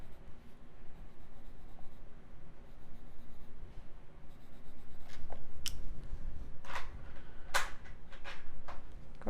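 Coloring pencil scratching and scribbling across paper, close and steady with repeated strokes and a few sharper taps, growing busier partway through.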